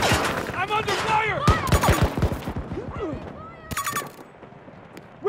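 Gunfire in the Battlefield 2042 video game crackles in short bursts amid shouted voices, with sharp reports clustering in the first half and a final burst later on, all mixed with speech.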